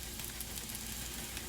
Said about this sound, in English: Okay, next we're going to add in our tomatoes.